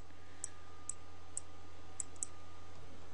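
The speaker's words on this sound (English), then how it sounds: "So if I click on there" A computer mouse clicks five times while working in photo editing software: small, sharp, close ticks at uneven spacing over a quiet room hum, with no talking.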